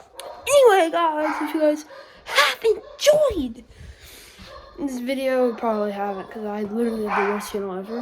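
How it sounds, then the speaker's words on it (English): Pet dogs bark and whimper indoors in short, close yips and whines, mixed in with someone talking steadily over them. "Sorry about my dogs."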